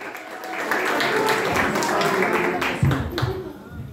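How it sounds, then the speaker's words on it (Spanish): Loud, sustained applause fills a birthday celebration with a youth mariachi band, a dense wash of clapping that swells and stays strong throughout, with crowd noise mixed in. "Ese aplauso fuerte, ay, ay, ay,"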